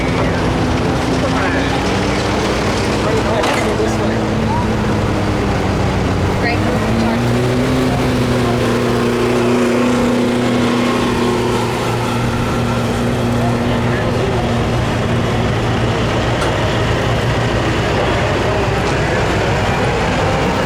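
A 1200 lb modified lawn tractor roars through a pull at a 2016 truck and tractor pull event, its loud, sustained engine drone shifting pitch as it works the sled, while an announcer talks over it.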